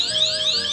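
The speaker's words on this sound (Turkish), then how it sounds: "Alarm çaldı resmen." An electronic alarm goes off close by, with a piercing tone that sweeps rapidly upward over and over in a fast repeating pattern, alone without talk.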